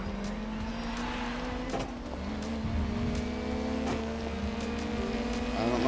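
Racing car braking hard into a corner in the GRID Legends touring-car game, a steady loud engine drone with shifting pitch and faint tire noise, continuous and close, with no voices.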